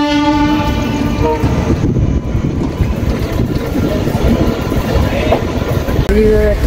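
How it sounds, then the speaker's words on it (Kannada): Passenger train pulling away from a station on a Hubli to Bangalore run, a long sustained horn blast giving way to rumbling, rattling wagons and clatter, then a second horn near the end, loud and close. "ಈಗ ಟ್ರೈನ್ ಡಿಪಾರ್ಚರ್ ಆತ ನೋಡ್ತಿರ್ಬೋದು"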